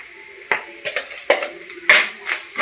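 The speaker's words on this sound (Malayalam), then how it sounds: "എന്നിട്ട് നല്ലതുപോലെ ഇളക്കാം" Clams frying in a pan for a clam roast are stirred, with a few sharp scrapes and clinks of a spoon against the pan over a steady sizzle, close up and without speech.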